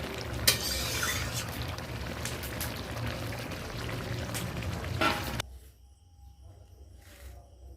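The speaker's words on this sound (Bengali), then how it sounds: "এখন আমি একটা পাত্রে ঢেলে নেব।" Telkoi fish curry with thick gravy poured from a pan into a bowl, a continuous close wet sizzling and sliding sound for several seconds that stops abruptly into near silence.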